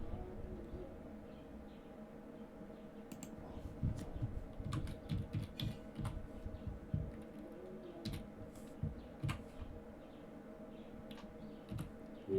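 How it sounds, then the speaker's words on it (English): Computer keyboard typing at a console, a steady run of quiet, close key clicks over a faint background hum with no talk. "Let's see what to type."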